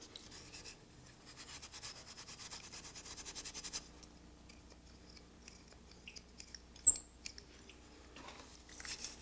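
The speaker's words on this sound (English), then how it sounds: "Rust will come off with some coarse steel wool," Coarse number 3 steel wool rubs rust off an old tool. The scrubbing is faint and close, a dry rasping that runs for a few seconds, then gives way to scattered light scratches and a single sharp tap.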